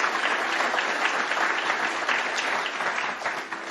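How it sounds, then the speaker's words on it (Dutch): An audience gives warm applause at a talk on green metropolitan spatial planning, a dense, even clapping that stays loud and close throughout, then tapers slightly at the end. "Ik geef ze allebei een hartelijk applaus."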